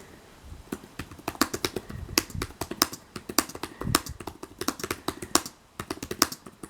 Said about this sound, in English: I'll do a quick little typing sample just to see how I feel about these